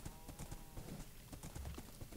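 Minecraft horse hooves clip-clopping in quick, rapid, irregular beats, loud and close, with game ambience underneath and no speech.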